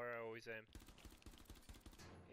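Rapid bursts of automatic gunfire in the shooter game Rainbow Six Siege, a dense crackling string of shots following a brief voice at the start, loud and close.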